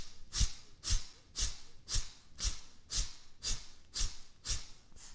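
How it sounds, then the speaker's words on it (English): Ten forceful nasal exhales from yoga breathing, sharp and evenly spaced at about two per second, close and clear with no talking. "Forceful exhales begin."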